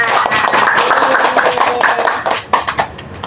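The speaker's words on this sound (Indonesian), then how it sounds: "Tepuk tangan buat kalian semua." A group of people claps hands together in a counseling session, a dense burst of applause that thins into a few scattered claps at the end.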